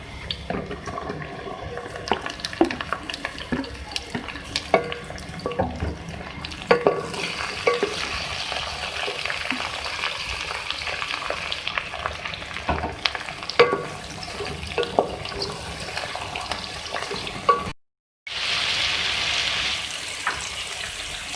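Ridge gourd and okra sizzle and hiss in a hot pan, stirred now and then with scraping clatters; the frying noise continues steadily throughout, fairly quiet.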